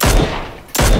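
Two sharp, loud gunshots ring out in a shooter game, one at the start and another just under a second later, each with a brief booming decay.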